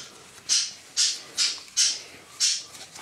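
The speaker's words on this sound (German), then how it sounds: "Vogel schreit wie am Spieß." A bird screeches loudly in five sharp, evenly spaced shrieks over a quiet indoor background, each cry piercing and close.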